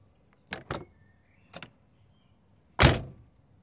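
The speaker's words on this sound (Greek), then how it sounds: "ο ήχος που κάνει η πόρτα όταν κλείνεις αυτό το αυτοκίνητο" A BMW Z3 roadster, a 90s car, gives a couple of quick light clicks, then a single solid, heavy door thud that rings out briefly, close and clear against near silence.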